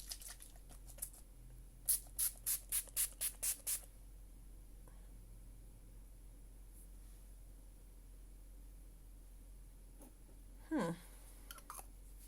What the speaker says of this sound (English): I'm going to spray this right now